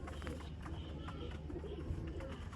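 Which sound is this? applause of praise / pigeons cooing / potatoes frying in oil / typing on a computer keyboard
pigeons cooing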